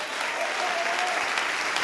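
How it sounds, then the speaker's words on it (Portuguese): A church congregation claps together in continuous, even applause during a Portuguese-language sermon. The clapping is moderately loud and uninterrupted for the whole stretch. "vamos aplaudir, igreja"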